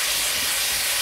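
Chicken browning in a pan for rice with chicken and peas gives off a loud, steady hiss of frying that fills the short stretch with no pauses and no voices.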